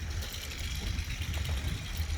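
A low, steady tractor engine idles nearby, a constant rumbling drone with no talking over it.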